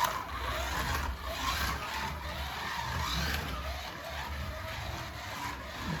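A Scalextric Allan Moffat 1978 XC Falcon Cobra slot car running on its track gives a steady, fairly faint whirring motor buzz with light rattling, continuous and even throughout with no talking.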